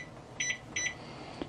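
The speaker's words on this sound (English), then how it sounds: "And so I put kitchen timer 10 minutes" A kitchen timer being set and started while bread dough rests gives two short, faint double beeps in quick succession against a quiet room background.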